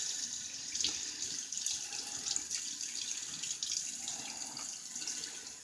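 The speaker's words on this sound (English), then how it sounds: "So let's rinse that while it's still damp," Running tap water rinsing a safety razor, a faint steady hiss of water with small splashes and clinks as the razor moves under the stream.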